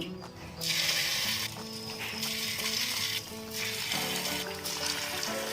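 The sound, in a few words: punugulu batter dropped into hot oil, sizzling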